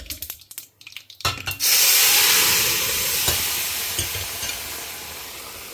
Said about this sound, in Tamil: இது கொஞ்சம் பொரியட்டும்.